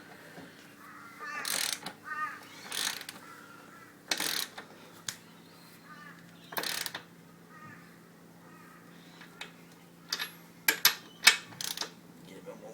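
A ratchet fitted with a 22 mm socket works a nut on a Suzuki GS500 motorcycle during chain adjustment. Short bursts of clicking are scattered through the clip, with a quicker cluster near the end, over faint talk.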